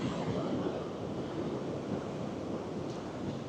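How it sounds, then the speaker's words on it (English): Ocean waves crash against the rocks at Cape Cornwall, a continuous loud roar of surf and churning water mixed with wind buffeting the microphone, with no voices. "I don't know if the waves are ever quieter."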